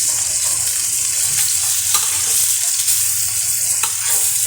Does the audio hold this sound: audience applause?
no